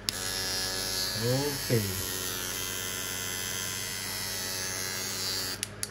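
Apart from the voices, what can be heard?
Buddha trimmer running with modified blade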